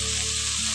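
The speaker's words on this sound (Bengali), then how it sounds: "এবার এর মধ্যে অল্প করে একটু জল দিয়ে দিচ্ছি" Water goes into a pan of frying cabbage and potatoes and sets off a brief, loud, dense sizzling hiss.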